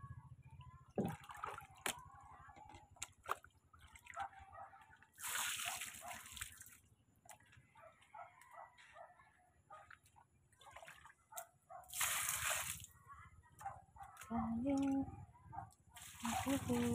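Rainwater splashes and sloshes steadily with drips and bursts of spray, while a voice talks intermittently over the wet background.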